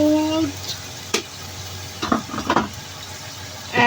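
Food stirred in a cooking pot, a few scraping and clinking spoon strokes over a low background hum, with a brief voiced sound at the start.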